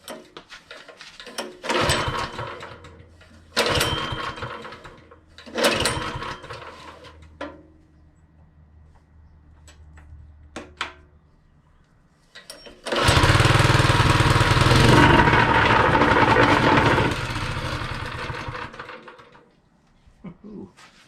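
A Predator 179cc small engine on concrete gives several short sputtering bursts as starting is attempted, then catches and runs loudly for a few seconds before cutting out, heard close up.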